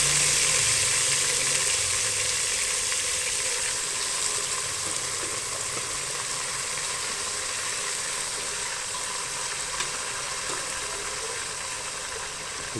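Mutton sizzles in hot oil with garam masala, a soft continuous frying hiss that fades slowly, with no talk.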